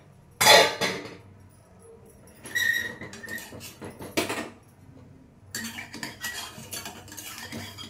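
A spoon scrapes and clinks against a cooking pot while stirring a morning tiffin dish, with a sharp clatter at the start, then bursts of rattling and scraping that come and go, close by, with no talk.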